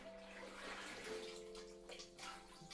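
Water being collected in the video game Homesick, a steady running, splashing pour with a faint tonal ring over a low background hum, continuous and fairly quiet throughout.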